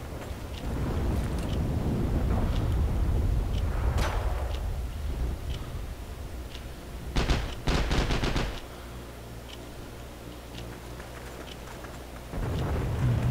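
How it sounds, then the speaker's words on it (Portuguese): Rapid bursts of automatic gunfire in the Heroes and Generals shooter, loud and dense, with a heavy volley around the middle over a steady low rumble of ambient game noise. "ele tá atirando em mim"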